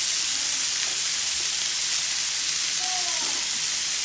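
Butter sizzles in a hot pan beside a steak, a steady dense frying hiss that fills the background, with faint clinks of cooking tools.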